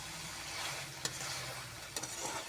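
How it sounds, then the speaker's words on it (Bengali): Spicy village-style pigeon curry is stirred and fried in a pan, giving a steady close sizzle with scraping stirs and a couple of sharp clicks from the spoon against the pan. "এখন আমি ভালো করে নেড়ে চেড়ে আরেকটু ভাজা ভাজা করে নেব।"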